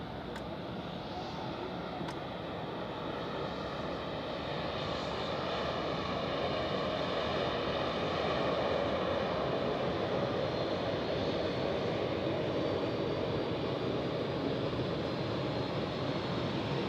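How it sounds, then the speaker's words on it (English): At foggy Zurich Airport, an Airbus A320 pushes back while a Swiss A220 arrives, and together they make a continuous distant jet roar that swells slightly partway through. No one speaks over the steady engine drone. "So here we have an A320 pushing back on its way to Sharm el Sheikh in Egypt."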